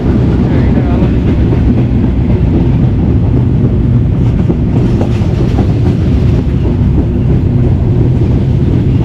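A train runs along a railway line near the Hili border in Bangladesh, on a route toward Joypurhat, giving a steady loud rumble with rattling wheel noise and wind buffeting throughout.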